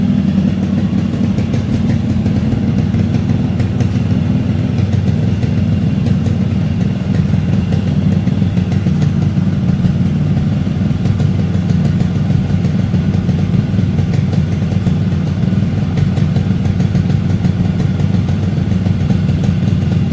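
A rebuilt Yamaha RX135 five-speed motorcycle engine runs on its first start, a steady, close, loud two-stroke idle with a constant low thrum and light clatter throughout, no talk.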